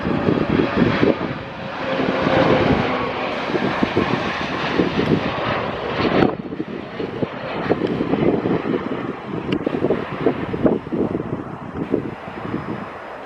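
Lufthansa Airbus A321 jet arriving from Frankfurt at Stockholm Arlanda in the early evening: a loud, sustained broadband engine roar with wind buffeting on the microphone, steady throughout.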